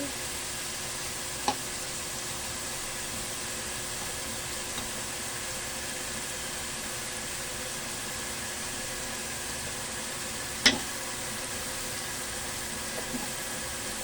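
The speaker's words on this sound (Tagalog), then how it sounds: "Gigisa na natin ang ating bawang." Garlic sautés in oil, a steady broadband sizzle close to the pan, broken by a couple of brief sharp clinks of a utensil, with no voices.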